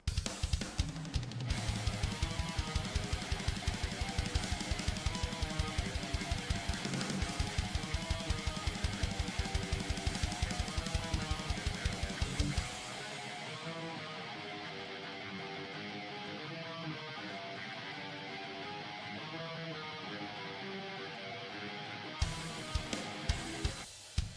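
Dense thrash metal track with programmed MIDI drums: rapid hits, a steady kick pulse and bright cymbal wash; the low drums drop out midway, leaving sustained synth layers, then return briefly.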